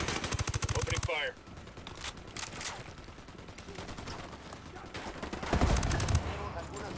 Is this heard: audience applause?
no